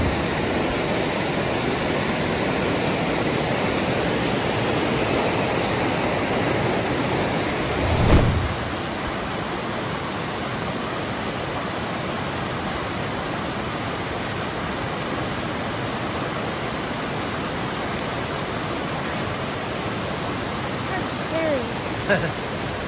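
A large creek rushes steadily, a dense broadband wash of flowing water that holds constant throughout, with a brief thump near the middle and no talking.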